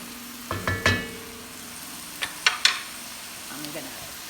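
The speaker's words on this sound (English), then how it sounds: "The beans go last after you have your liquids in, and then the beans go. Just give that a little stir." Minestrone soup is stirred in a pot after the beans go in, with a few brief spoon clinks and scrapes in two small bursts over a faint background simmer.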